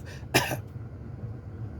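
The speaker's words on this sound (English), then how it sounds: "Cough again." One sharp cough from a man told to cough during a jail strip search, close and loud, fading into quiet room tone.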